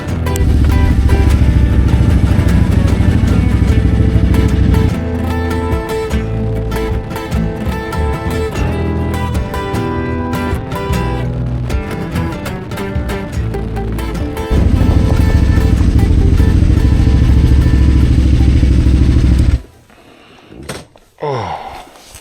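A motorcycle rides along the Carretera Austral in Patagonia, its engine a loud, steady drone mixed with heavy wind rush. Near the end it drops away to quiet handling noises.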